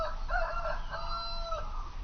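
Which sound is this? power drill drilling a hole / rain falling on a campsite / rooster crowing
rooster crowing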